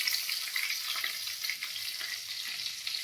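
Garam masala and oil sizzle hard in a pan while preparing a traditional crab curry, a steady close frying crackle with faint stirring scrapes, no voices.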